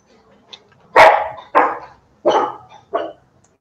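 Several dogs bark in four sharp, loud bursts close by, with a faint yip before them and quiet pauses between, during a Portuguese-language meeting.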